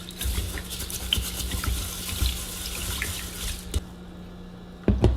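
Tap water runs steadily into a kitchen sink while rice is rinsed, with splashing and sloshing. The flow stops near the end, followed by a few clunks and drips.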